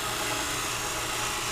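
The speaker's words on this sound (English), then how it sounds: "I want you to hear the change in the cut" A wood lathe gouge cuts a cove in a spindle, giving a steady, hissing, high-pitched cutting noise that stays loud and even for the whole brief moment.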